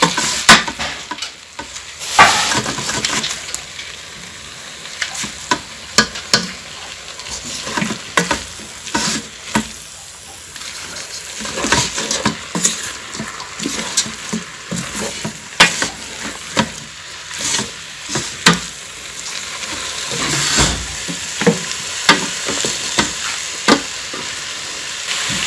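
Egg noodles and vegetables stirred in a rice cooker, a steady scraping and clinking of a utensil over soft sizzling, with sharp irregular knocks throughout, close and fairly loud, no voices.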